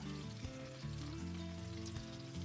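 Honey glazed teriyaki salmon sizzles steadily in a hot pan, a dense continuous frying hiss heard close up with no talking.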